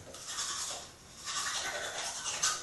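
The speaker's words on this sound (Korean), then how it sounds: "물이 데펴질 때까지 저 이빨을 한번 닦아보겠습니다" Teeth are brushed with an Oral-B toothbrush, a close, soft scrubbing in two bursts with a brief pause between them.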